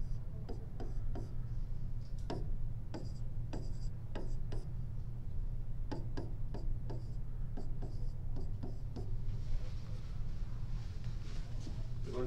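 A pen scratches across graph paper while drawing numbers and an x and y axis. It makes quick, faint strokes and ticks in irregular bursts over a steady low room hum.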